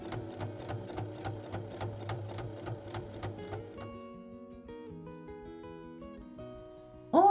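A sewing machine topstitches a small zippered bag with a quick, even run of needle strokes. The stitching then slows into scattered, uneven clicks, and a louder clunk comes at the end.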